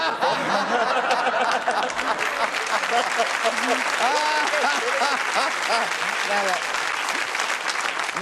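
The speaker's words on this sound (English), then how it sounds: "that one deserves a round of applause." Studio audience applause on the British celebrity panel show Through The Keyhole, a loud, steady wash of clapping lasting the whole stretch with a little laughter and talk mixed underneath.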